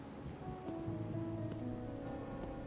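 Steady rain falls in the video game Wuthering Waves, a soft continuous hiss with faint tonal music beneath, no voices.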